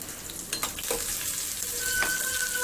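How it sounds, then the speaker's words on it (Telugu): Finely cut green chillies fry in a pan with a soft, continuous sizzle, close and moderate in volume, with a few light stirring scrapes. "పచ్చిమిర్చి ఇందులోకి వేసుకోవాలి. వేసుకొని ఒకసారి ఫ్రై చేసుకోవాలి."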